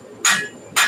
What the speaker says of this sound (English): You have to wait till I'm done hammering.